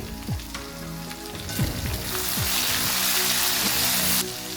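Chopped tomatoes hit golden-brown frying onions in a pan for masala bhindi, setting off a loud, steady sizzle that builds and holds for a few seconds before dropping, with scraping stirs along the way.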